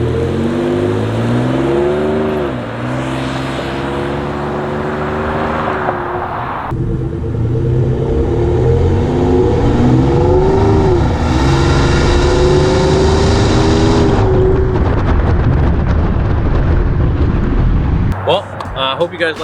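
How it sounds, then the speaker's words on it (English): A Ford F150 STX with its exhaust resonator deleted and a turbo revs in a loud, deep rumble, with climbing and falling engine pitch and turbo whoosh; the engine drops to idle near the end. "You can definitely hear a lot more turbo coming through."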